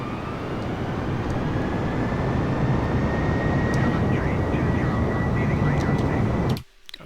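Airbus A320 engines in Microsoft Flight Simulator 2020, a loud, constant roar with a steady whine above it that continues unbroken until it cuts off abruptly just before the end.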